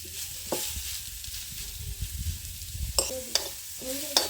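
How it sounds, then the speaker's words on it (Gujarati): Grated carrots sizzle in hot ghee in a pan for carrot halwa, a steady close frying hiss broken by a few sharp scraping stirs of a spoon. "જે ઘીમાં જે કંઈ ગાજર આપણે ખમણેલા છે એ આપણે એમાં સડી જવા દઈશું"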